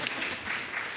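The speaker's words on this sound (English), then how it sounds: "You don't need to applaud." Applause from an audience at a panel of contemporary fantasy authors, a steady broadband wash of many hands clapping at moderate volume throughout the short moment.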